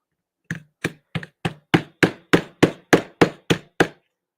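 Twelve sharp hammer taps ring out at an even, quick pace while parts of a clipboard are pressed together, each strike close and crisp with a short decay.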